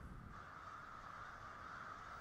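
Faint crows cawing in the wild, a steady group of calls heard from a distance under a low outdoor hiss.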